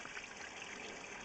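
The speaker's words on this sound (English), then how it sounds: "it looks to me like the water's flowing downwards properly" Water flowing through an old sewer pipe past an offset, broken joint under a foundation wall, a steady, faint, hollow rush with no breaks.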